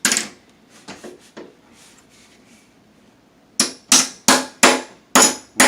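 A hammer beats a bent, cheap door hinge flat: a few light taps and rustles first, then after a pause six loud, sharp metallic strikes in an even rhythm, close up.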